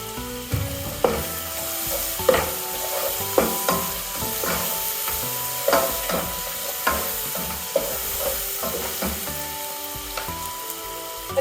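Chicken sautéing in a pan with chilli powder, turmeric and coriander powder, a continuous close sizzle punctuated by regular scraping stirs of a spoon roughly every second, no speech.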